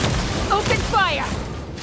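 Gunfire and booming blasts in a video game battle, a short burst of muffled shots and thuds mixed with game sound effects and a voice.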